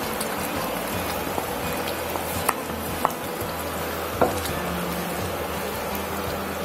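Spinach and coriander paste added to cooked-down chicken in a hot pan: a steady, close sizzle and bubbling with a few sharp clinks of a spoon against the pan, no talk.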